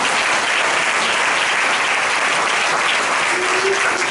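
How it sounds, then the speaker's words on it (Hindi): A church congregation applauding loudly and continuously at a sermon, dense clapping from many hands filling the whole space without a break. "प्रभु ताली बजाएं।"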